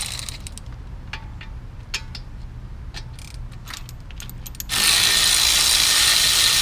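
A ratchet removes the front brake caliper on a first-generation Chevy Cruze, clicking in quick close bursts over a background hum, followed by a sudden loud hiss.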